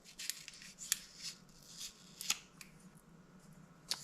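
A tire repair plug from a plug kit is snipped off its strip with scissors: a handful of crisp, quiet snips and clicks spaced over a few seconds, close by, with no talking.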